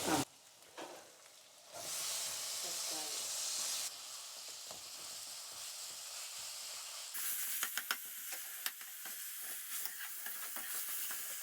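Tomatoes go into hot oil for chicken curry and sizzle with a continuous, fairly quiet hiss. It shifts in level a few times, with faint stirring clicks and no speech.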